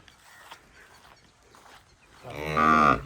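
Quiet rustling and faint background voices at a cattle auction, then a loud, drawn-out moo from a young female calf close by near the end.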